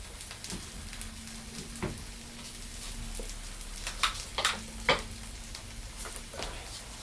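Pancake batter cooking in a small pan during a cooking class, a soft, steady sizzle with occasional faint ticks and scrapes, heard quietly and close with no talking.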